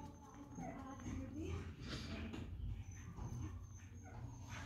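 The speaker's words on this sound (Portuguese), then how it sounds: "Espera ele parar de latir." A neighbour's dog barks and whimpers somewhere nearby, its yips rising over a murmur of voices and household shuffling.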